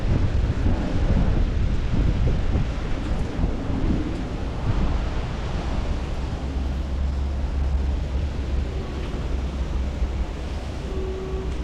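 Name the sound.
rain and thunder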